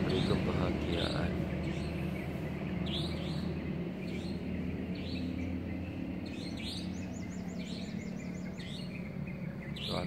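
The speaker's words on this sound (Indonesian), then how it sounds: "Suara burung, kicau burung" Birds chirp and tweet in short repeated calls over a steady background, with a murmur of voices underneath.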